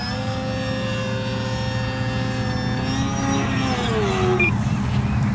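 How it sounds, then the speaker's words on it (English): An OMP Decathlon PNP RC aerobatic model airplane on its maiden flight gives a continuous buzzing electric-motor drone that shifts and drops in pitch as it passes overhead, with no talking. "it's made to be an acrobatic airplane"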